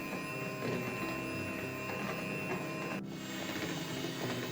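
An electric hand mixer whisking sugar on high speed for a sponge cake, a steady close mechanical whine and hum with a continuous even drone and a brief shift partway through.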